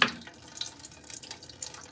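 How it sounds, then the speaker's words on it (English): Water poured onto a freshly repotted houseplant runs quickly through the soil and out of the pot, a short splashy gush at first that settles into a soft, trickling flow, close and without speech. "the water just goes straight through it"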